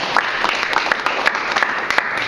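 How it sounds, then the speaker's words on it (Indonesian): Audience applause after an excellent-service training presentation: a brief, dense patter of many hands clapping at moderate volume, steady throughout with a few sharper individual claps standing out. "Tepuk tangan untuk materi kita"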